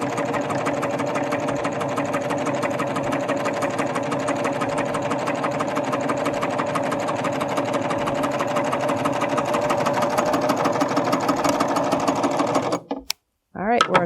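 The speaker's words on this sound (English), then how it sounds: "I'm going to serge again and do a gathering right down the center." A Babylock Ovation serger gathers fabric down a drawn center line, running steadily and loudly close by with a dense rapid stitching whir that stops abruptly near the end, then a brief restart.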